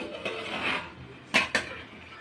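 A metal lid scrapes and clanks twice, lifted off a pot of mutton biryani resting on dum, close and crisp in an otherwise quiet kitchen.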